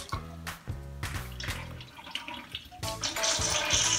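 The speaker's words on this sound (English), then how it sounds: "It started going over the tube, and now we can see that the water in this container is draining out" Water trickles and drains from a homemade water clock after tipping over a tube, with rhythmic hollow plinks and drips at first, then a steadier close gurgling flow building toward the end.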